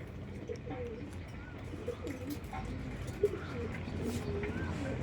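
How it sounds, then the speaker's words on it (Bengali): Pigeons coo softly in a pigeon loft, low repeated calls over a faint background murmur, with an occasional brief chirp and a hint of distant traffic. "তারপর এদিকে আমাদের বাচ্চা কবুতরগুলো এখানে সেট করা হইতেছে।"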